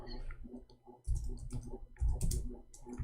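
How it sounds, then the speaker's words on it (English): Someone types on a computer keyboard: irregular bursts of clicking keystrokes, close and fairly loud, with short pauses between clusters and no talk. "We are typing in English, hold on."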